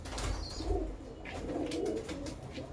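Male pigeons coo in soft, low, repeated throaty murmurs, faint and close, with light rustling from a loft.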